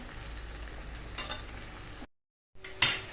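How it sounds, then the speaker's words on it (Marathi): Onion and cabbage stir-frying in a hot pan for veg Hakka noodles, a continuous close sizzle with spatula scrapes, cut by a brief silence before the hissing returns louder. "आता कांदा कोबी दोन्ही चांगलं परतून घेऊ"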